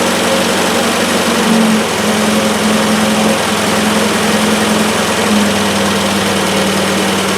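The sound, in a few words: Triumph Spitfire engine slowing toward idle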